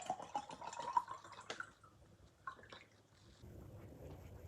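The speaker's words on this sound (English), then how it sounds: "I gotta put some water." Water poured into a cup, a soft trickling fill with faint drips, quiet and close.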